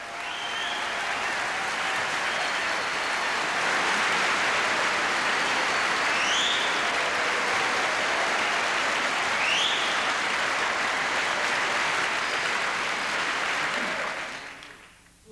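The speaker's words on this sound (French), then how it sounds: "Je vous demande d'applaudir Bernard-Henri Lévy, s'il vous plaît." A large audience applauds Bernard-Henri Lévy at a community gathering, with steady, dense clapping that holds evenly for about fourteen seconds before fading out. Faint whistles rise briefly through it.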